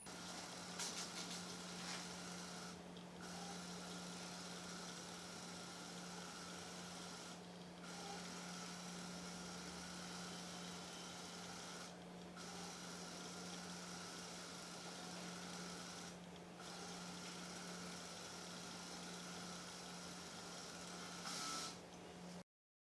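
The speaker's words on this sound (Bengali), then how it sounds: "নেক্সট স্টার্ট বাটনটি প্রেস করলে এইখান থেকে গ্রাফের পেপারগুলি বেরোবে।" An ECG machine runs and prints graph paper, giving a faint steady mechanical hum and whir with soft periodic dips, in a quiet room.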